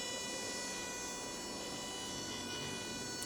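A MelodySusie cordless nail e-file spins steadily at high speed, a thin continuous electric whine and buzz holding level throughout with no talking.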